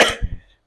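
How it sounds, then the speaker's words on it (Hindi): A single harsh, close cough from a man with a lingering cough, sharp at the start and fading out, with a further burst cut off at the end. "पता नहीं भाई कब ठीक होगा, खांसी है।"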